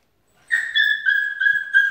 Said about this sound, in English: What are you whining for?